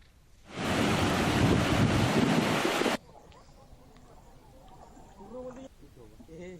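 Water rushes from opened dam gates in Ranchi after days of rain: a loud, broad roar for about two seconds that cuts off abruptly. A voice then speaks.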